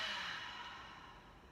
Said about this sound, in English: Big full breath in here. Exhale out of the mouth.